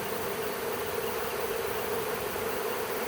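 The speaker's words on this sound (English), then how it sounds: "See how they're all kind of fanning their wings coming around the corner" A swarm of honey bees fanning their wings as they move into a hive box gives a steady, dense buzzing drone that holds at an even level throughout, close and continuous with no voices.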